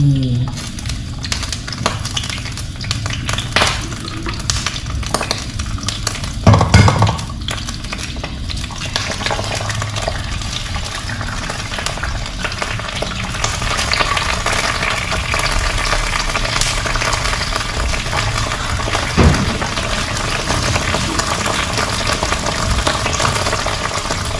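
Two salted duck eggs frying together in a pan of hot oil give a steady, moderate sizzle that runs throughout, with occasional clinks of a utensil against the pan and brief stirring noises.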